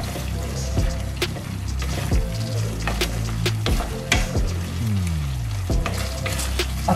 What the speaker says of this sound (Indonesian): Ini dia sudah mendidih ya, sudah meletup-meletup, tandanya sudah boleh diangkat.